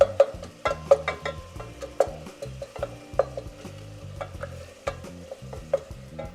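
Ground beef browns in a pan for loaded queso dip with a soft sizzle, broken by repeated knocks and scrapes from a utensil breaking the meat into small chunks. The sounds are close and come in an irregular rhythm.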